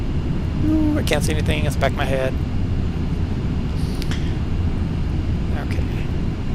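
The steady, broadband engine drone of a Boeing B-52H Stratofortress in Flight Simulator X holds at an even level throughout, with someone speaking briefly over it early on.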